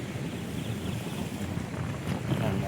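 Strong seaside wind at San Nicolas, Batangas rushing across the microphone with a low, constant roar, mixed with surf sounds in the background.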